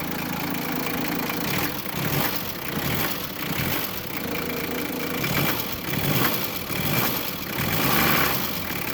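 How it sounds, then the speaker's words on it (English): The diesel engine of a turbo Toyota Troopy idles cold with a rough, uneven chug, close and continuous, with no talking. "It does take a little while winding over without glow plugs"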